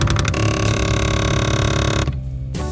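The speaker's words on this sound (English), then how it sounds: "The problem could be a faulty damper motor controller," Close and loud, the damper motor in a GE refrigerator drones with a continuous harmonic buzz for about two seconds, then drops away sharply, followed by a brief return of noise.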